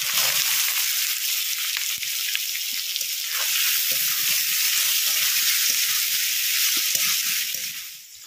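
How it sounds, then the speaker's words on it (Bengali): Boiled potato frying in dried chilli paste in a hot pan, a loud, continuous close-up sizzle with faint stirring scrapes underneath, fading slightly at the end. "শুকনো লঙ্কা বাটা, এবারে এর মধ্যে সিদ্ধ করা আলুটা দিয়ে দিচ্ছি।"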